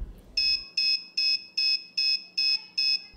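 Repeated electronic alarm beeps from a homemade ESP8266-based motion detection security device, eight evenly spaced loud tonal bursts sounding alone in a quiet room.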